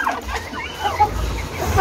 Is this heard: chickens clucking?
yes